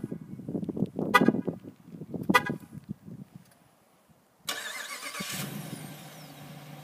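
A 2022 Dodge Durango R/T with a short horn chirp and clicks, then a pause before the engine fires and settles into a steady, close idle.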